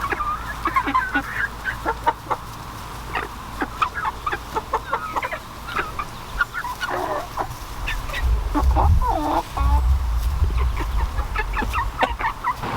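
Chickens cluck in short, scattered calls close by around a movable chicken tractor on a farm, with a low rumble of handling noise swelling in the second half.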